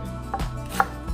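A knife chops onions and other vegetables on a board at home in a few quick, close, distinct strikes, with no talking.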